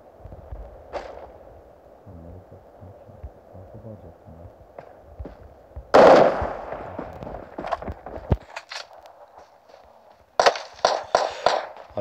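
Gunfire in the mobile battle royale game PUBG Mobile: a loud sharp shot burst, scattered cracks, then a rapid cluster of automatic shots near the end over a low background hum, with talking in between.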